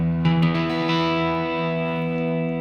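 An electric guitar plays a clean-toned chord that rings out and sustains through delay and reverb, a single strum with echoing repeats trailing off, loud and close with no talk.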